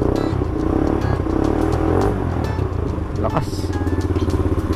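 A 200cc ATV engine runs loud and close with a steady rough idle and a brief rev in the middle, while someone speaks over it.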